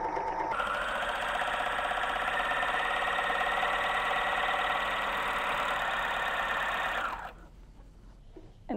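An overlock machine sewing a balanced 4-thread stitch whirs steadily and loudly for about seven seconds, then cuts off, leaving quieter handling rustles.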